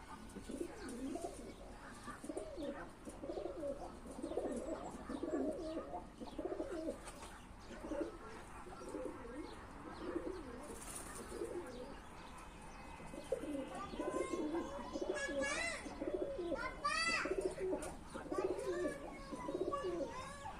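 Pigeons kept out in the sun coo in soft repeated rolling calls, several birds close by, mixed with occasional chirps over a quiet background.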